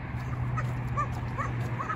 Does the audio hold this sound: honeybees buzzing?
no